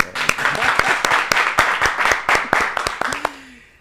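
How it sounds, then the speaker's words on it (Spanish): A small studio audience claps for guest Carlos Gómez on a talk show, a few seconds of close, sharp individual hand claps with clear separate strikes before fading out. "vamos a aplaudir"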